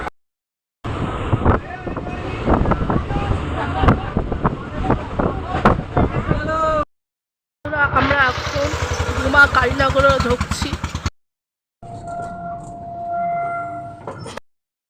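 Habra local train ride, rumbling carriage noise and wind buffeting in several segments separated by short gaps, with voices heard along the way.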